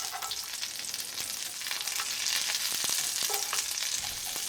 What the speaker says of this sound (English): I'm just going to turn it on its side and let the skillet do its job so I can render the fat that's on the side